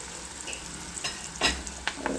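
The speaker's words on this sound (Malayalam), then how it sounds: "ഉള്ളി നന്നായി വഴന്ന് വരുന്ന വരെ നമ്മൾ ഇടയ്ക്കിടയ്ക്ക് ഇളക്കിക്കൊണ്ടിരിക്കണം" Onions fry over a low flame while a utensil stirs them slowly, giving a soft continuous sizzle broken by a few scraping stirs against the pan.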